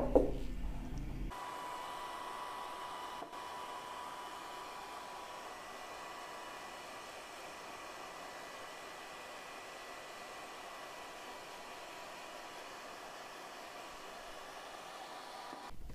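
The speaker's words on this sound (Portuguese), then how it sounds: "eu vou acelerar a secagem para você ver qual é a reação do produto com o secador" A hair dryer blows steadily over drying crackle craft paint, with a constant airy whoosh, close to the microphone and fairly soft, with a brief bump at the start.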